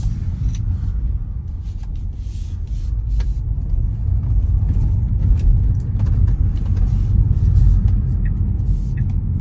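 A car heads off the interstate toward fuel stations, giving a steady close low engine and road rumble inside the cabin with faint intermittent clicks throughout.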